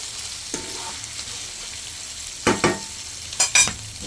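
Chenagi chutney ingredients fry in a pan with a soft, steady sizzle, punctuated by a few louder scraping stirs and knocks, close by.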